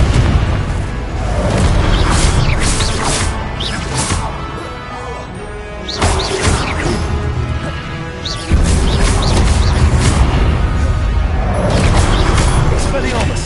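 Confringo blasting-spell explosions in the Hogwarts Legacy wizard action game, loud repeated booms and crashes over a rumbling bed, with sharp impacts near the middle and end and voices underneath.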